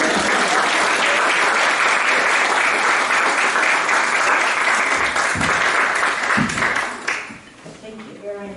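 A church audience breaks into loud sustained applause, dense clapping that carries on for several seconds before tapering off sharply, with a few voices coming through at the end.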